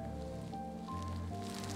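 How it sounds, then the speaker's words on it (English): Light drizzle falls over an open hillside landscape with bluebells, a faint steady patter spread evenly throughout, with a low tonal hum beneath and no talk. "It is drizzly."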